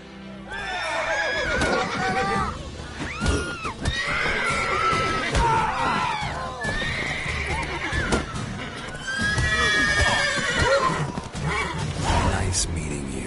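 Horses neigh and whinny repeatedly in the video game The Witcher 3, over a busy, layered mix, with hoofbeats and voices talking among the calls.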